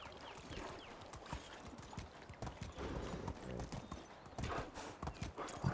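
Horse hooves clip-clop steadily in the medieval survival game Medieval Dynasty, a rhythmic run of hoof strikes with ambient game sound that grows busier toward the end.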